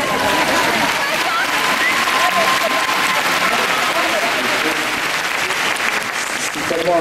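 A large audience applauds at a concert at the Zenith in Paris, with dense, sustained clapping and crowd noise filling the hall throughout.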